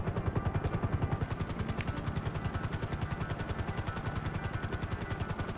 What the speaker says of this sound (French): On a l'hélicoptère.